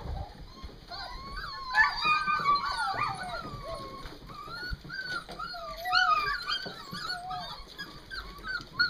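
A puppy whimpers and yips in a run of high, wavering whines, some rising into short howl-like cries, with faint background noise between calls.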